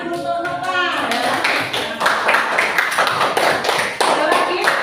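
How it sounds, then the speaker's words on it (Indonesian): A classroom of pupils applauding a classmate, a burst of brisk, dense clapping close by, with a voice speaking briefly at the start. "Ayo tepuk tangan untuk Nova"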